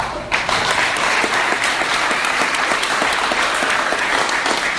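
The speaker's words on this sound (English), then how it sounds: "give a major round of applause to everybody at Morty's" A live podcast audience claps for everybody at Morty's, a dense, steady burst of applause filling the room for the full few seconds without any voices.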